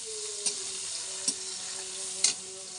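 Dried red chillies, slit green chillies, onion and shrimp fry in a wok, a steady bright sizzle with three distinct stirring clinks spaced across it and a faint low hum beneath.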